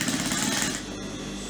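Sewing machine stitching a flounce on a blouse, a loud, fast mechanical rattle that runs steadily through the whole short stretch.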